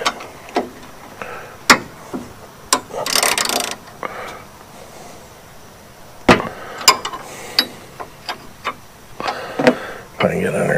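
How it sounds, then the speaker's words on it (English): A 13 mm socket wrench is worked under a 1999 Chevrolet C3500 2wd pickup's locked right front wheel, giving sharp metallic clicks and ratchet bursts scattered between scuffing handling noises, close and moderately loud. "And get my 13 millimeter socket and my wrench in."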